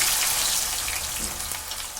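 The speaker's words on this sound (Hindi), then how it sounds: "यहाँ हमारा ऑयल गर्म हो गया है। अब इसमें अनियन डालेंगे।" Onions hit hot oil in a kadai for a Mughlai chicken dish and fry with a bright, crackling sizzle that stays loud and steady, then eases slightly, with no talk over it.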